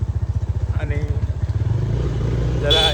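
A motorcycle is ridden on a trip through heavy rain. Its engine first chugs in a fast, even pulse, then settles into a steadier drone, with a brief high vocal sound at the end.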